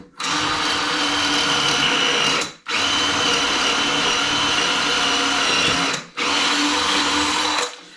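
A roughly ten-year-old Makita cordless combi drill whirs at high speed in three long bursts, each stopping abruptly with a short pause between, loud and close.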